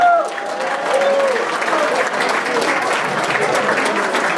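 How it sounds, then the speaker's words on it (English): An audience at an evening museum hall of fame celebration claps loudly and continuously, a dense, even wash of applause with faint voices at the start. "Let's give a big round of applause."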